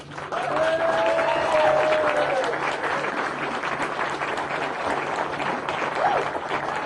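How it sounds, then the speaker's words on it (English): An audience at the Paramount Hudson Valley grand opening in Peekskill, NY breaks into sustained applause, loud and dense, holding steady for several seconds before tapering slightly. "I'd like everyone to give Red House a round of applause"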